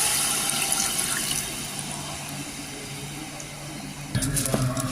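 Water poured from a cup into a pressure cooker while making biryani, a steady continuous splashing pour running close and fairly loud, with a brief louder burst of liquid near the end.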